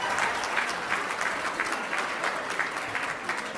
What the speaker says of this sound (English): can I have a round of applause for everybody who participated in that live auction?